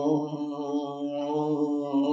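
A voice hums a steady, droning buzz in imitation of a bee trapped against a window pane, standing in for mumbled Quran recitation; the tone is continuous and moderately loud with no clear words.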